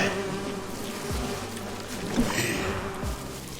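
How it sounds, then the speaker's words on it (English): Bees buzzing in the Identity V video game, a continuous close insect drone with a few soft thuds from gameplay. "Let's just get rid of these bees, because I know she's not gonna go anywhere."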